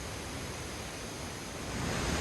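A waterfall in Kagoshima, southern Kyushu, roars as a steady broadband wash of falling water. The sound is dense and continuous and swells slightly toward the end, with no voices.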